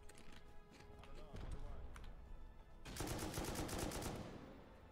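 Gunfire in the survival game Rust during a PVP raid: scattered single shots give way to a rapid automatic burst near the end, heard over a continuous noisy game background while people talk.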